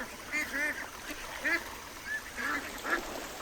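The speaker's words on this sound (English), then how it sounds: "They're floating briskly, quacking in delight as they spot me." Several ducks on the water give short quacking calls in loose bursts, a few spaced cries rising over a soft outdoor wash, fairly close and moderately loud.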